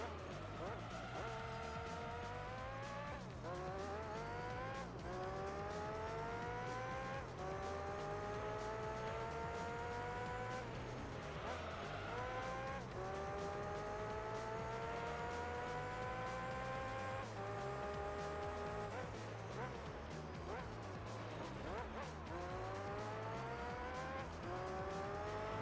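A race car laps in Gran Turismo 3, its engine note rising steadily through each gear and dropping at every shift, in repeated surging cycles with occasional tire noise, the continuous drone carrying on throughout.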